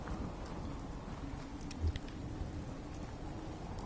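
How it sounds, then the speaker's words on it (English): Steady rain falls in a Fallout 4 survival-mode game, a continuous wash of drops on surfaces with a faint rumble of thunder underneath, heard alone without talk. "And now it's raining."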